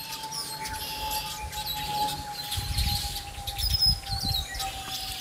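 Birds chirp outdoors on a cloudy fall day in Michigan, scattered short high tweets over a steady background hum and low rumbles, fairly faint and at a distance.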